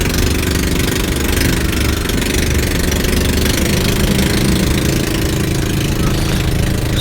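An 18 HP Kawasaki boat engine runs at a steady, loud, rough idle up close, its low knocking drone continuous throughout with no pauses.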